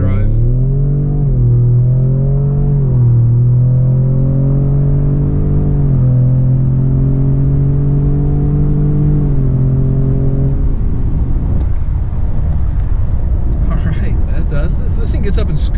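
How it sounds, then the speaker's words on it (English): A 2019 Ford Raptor with a twin-turbo six-cylinder engine pulls hard in two-wheel drive, its engine note climbing through several shifts as a strong rising drone, then fading into road rumble and wind, with a voice talking over it. "The 6 cylinders makes an interesting sound."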